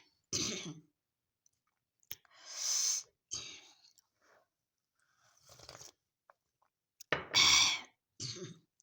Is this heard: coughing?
yes